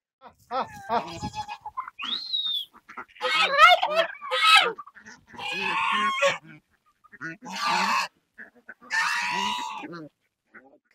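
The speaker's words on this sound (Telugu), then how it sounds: "ఇవి మీరు చూస్తున్నది దేశీ రకమైన బాతులు అండి" A flock of desi ducks and geese on an integrated farm calls out in loud, nasal honks and quacks, several separate bursts close by with short pauses between them.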